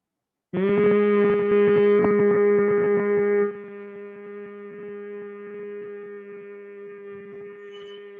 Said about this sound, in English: As you breathe out, make an humming sound from your throat, Brahmari Pranayama.